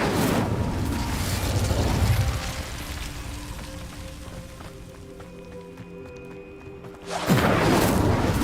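The Incendio fire spell cast in Hogwarts Legacy: a whooshing burst of flame that fades over a couple of seconds, then a second loud fiery blast near the end, with faint magical ringing tones between.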